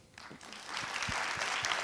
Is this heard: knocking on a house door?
no